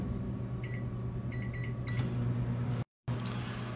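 A microwave oven runs with a steady low hum, broken by a few short electronic beeps and a brief dropout near the end.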